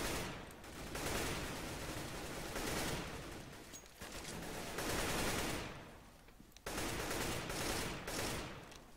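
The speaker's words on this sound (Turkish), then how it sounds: "Bu ne oğlum, silah sesleri" Rapid bursts of gunfire rattle loudly in waves, with brief pauses between volleys, automatic weapons in CS:GO.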